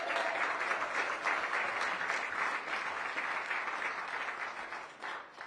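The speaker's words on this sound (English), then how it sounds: "Can we give them a round of applause?" Audience at an event in Washington, D.C. honoring community champions breaks into sustained applause, a dense, steady wash of clapping that holds for several seconds before slowly tapering near the end.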